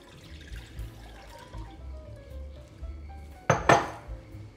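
A small saucepan clanks as it is handled, then water is splashed in for syrup, a sharp metallic knock followed by a short burst of pouring against a quiet kitchen background.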